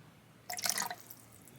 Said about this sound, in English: I poured too much out.